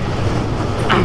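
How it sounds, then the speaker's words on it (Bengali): A Kolkata tram pulls out of the Gariahat depot with a loud, steady rumble of wheels on rail, plus a brief higher screech near the end. "গড়িয়াহাট ট্রাম ডিপো থেকে ছাড়লো"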